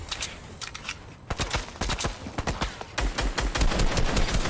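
Gunfire in the Fortnite video game rings out in rapid bursts of sharp shots, loud and close, with a brief lull before a denser volley near the end.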